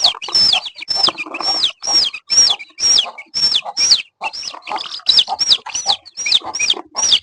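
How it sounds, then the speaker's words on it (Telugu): A native country hen with newly hatched chicks calls close by in rapid, repeated clucking bursts that keep up a steady, loud rhythm throughout. "ఇది పల్లెం అరుస్తూ ఉంది"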